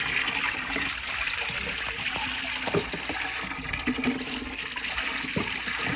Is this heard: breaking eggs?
no